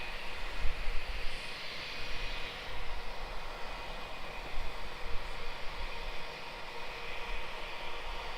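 A steady, broad roar from an airliner on approach to land at Melbourne Airport, constant and moderately distant throughout with a windy hiss and no voices.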